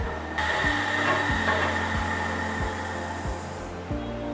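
An electric motor on a motor control kit holds a steady whine that steps upward in pitch in several distinct jumps, each jump followed by a short settled stretch, over a continuous broadband hum.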